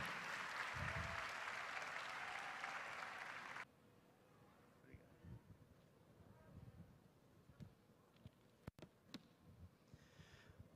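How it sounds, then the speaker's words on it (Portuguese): A church congregation claps warmly for a pastor at an evening service; the dense applause lasts about four seconds, then gives way to faint room noise and a few stray claps. "Vamos aplaudi-lo com carinho"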